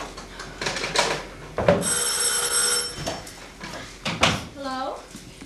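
A telephone rings in a domestic stage comedy setting, a bright steady ringing burst lasting about a second amid stage voices and movement noises, with people talking before and after it.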